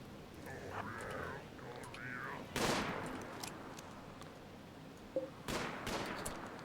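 Rimworld colony battle gunfire with miniguns and rifles, a few sharp bursts of shots cutting through a low background, moderately loud, with a quiet voice talking earlier in the stretch.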